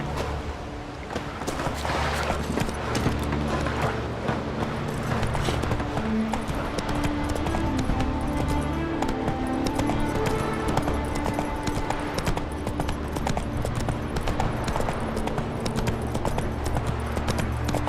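Horse hooves from the video game Witcher 3 drum in a rapid, steady galloping rhythm through a race, loud and continuous with no speech over them.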